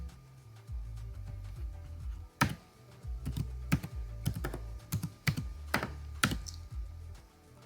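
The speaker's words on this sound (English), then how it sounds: "So I'm going to type my password again." A password being typed on a computer keyboard, with bursts of crisp key clicks and heavier thumps, some keys tapped in quick runs and others spaced apart, close and clear with no speech.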